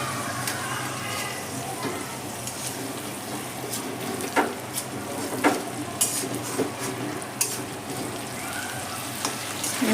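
Spiced stuffed brinjals fry in a kadai, uncovered after about ten minutes, and get turned over. A steady sizzle runs throughout, broken by sharp spatula scrapes and clicks, with occasional speech.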